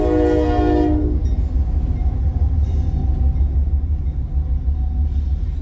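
A CSX freight train engine rumbles past near Athens, Georgia, sounding a loud, close horn blast at the start before it cuts off, leaving heavy, steady rail rumble and clatter.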